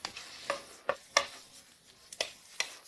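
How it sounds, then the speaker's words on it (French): Pieces of meat fry in a pan over medium heat while a utensil stirs them, giving a series of close, sharp scrapes and clinks in an irregular rhythm over a soft sizzle, with no voices. "Remuez jusqu'à ce que la viande soit bien frite et savoureuse."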